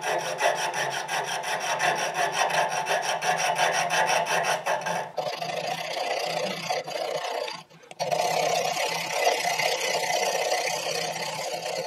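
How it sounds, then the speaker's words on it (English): A jeweler's saw rasps back and forth through a small metal extension for a grandfather clock pendulum, a steady close scraping rhythm that runs nearly continuously with one brief pause before resuming. "I cut this out with a jeweler's saw."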